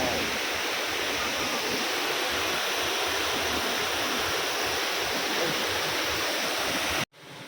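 Dev Kund waterfall in Mayurbhanj, Odisha, roars as a loud, steady broadband rush of falling water that continues unbroken for about seven seconds before cutting off abruptly, with no voices.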